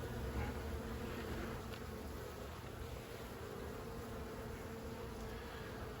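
Honey bees swarm around an open hive being inspected in spring, a dense continuous buzzing close by, fairly quiet and even throughout, with no voices.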